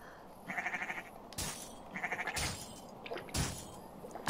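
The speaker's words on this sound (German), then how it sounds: "unser Publikum sind Schafe" Sheep bleat in Assassin's Creed Valhalla, several wavering, quavering calls from a flock in a rural game setting, with rustling and thuds between them.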